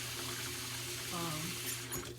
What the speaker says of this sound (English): just running water